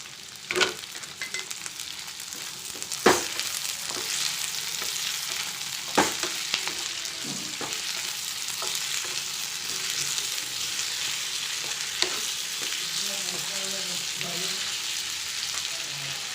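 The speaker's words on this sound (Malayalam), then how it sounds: "എന്നിട്ട് നമുക്ക് അരിഞ്ഞു വെച്ച ടൊമാറ്റോ ഇട്ട് കൊടുക്കാം." Chopped tomatoes frying in a pan for a vegetable curry, giving a continuous close sizzle with scattered sharp clicks and scraping stirs throughout, and no speech.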